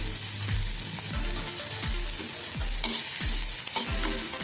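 Semolina (rava) dry-frying in a kadhai for instant rava idli, a continuous hiss with rhythmic spoon scrapes stirring it around the pan roughly every half second.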